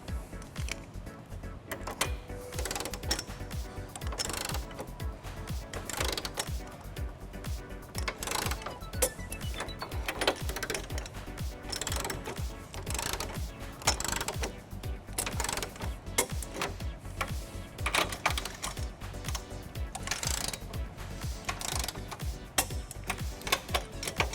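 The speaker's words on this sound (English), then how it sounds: "we're going to tighten and torque all of our nuts to the manufacturer specification" A ratchet with a 19mm deep socket tightens the hitch nuts on a 2011 BMW X5 during a trailer hitch install, giving rapid, steady clicking bursts that run nearly the whole time, close and fairly loud, with no talking.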